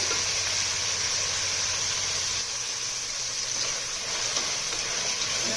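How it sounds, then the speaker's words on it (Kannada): Fresh field beans (avarekalu) sizzle steadily in a tempering over a high flame, a dense, even frying hiss that holds close and constant throughout with no talk. "ಉರಿ ದೊಡ್ಡದು ಮಾಡಿ ಅವರೆಕಾಳು ಒಗ್ಗರಣೆನೇ ಬೇಯಲಿ."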